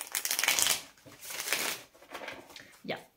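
A deck of playing cards being shuffled by hand, a run of quick riffling bursts close to the microphone, each ending in a soft flutter, with no talking.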